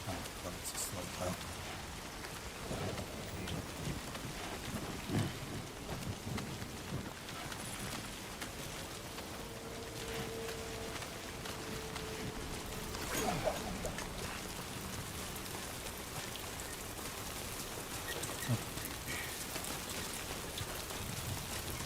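Steady timefall rain in the video game Death Stranding 2, a dense continuous patter and hiss throughout with occasional faint voice sounds beneath.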